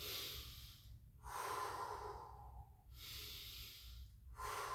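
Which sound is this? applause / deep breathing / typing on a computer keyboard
deep breathing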